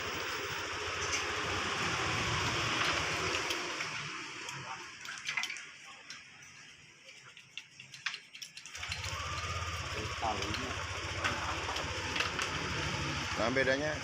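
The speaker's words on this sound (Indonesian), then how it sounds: "ini mesinnya sudah menyala dan ini tanpa kunci kontak" A Yamaha NMAX scooter engine idles steadily with the ignition key removed. The close, even hum dips briefly midway before resuming, with a voice talking over it.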